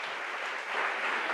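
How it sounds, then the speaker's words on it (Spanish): Congregational applause in a church service, a steady dense wash of many hands clapping throughout at an even, fairly loud level with no voices standing out. "Aplauso al Señor Jesús."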